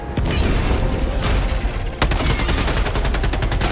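Gunfire and explosions in the video game Helldivers: a dense, loud stream of rapid automatic shots with a sharp blast near the two-second mark, no voices.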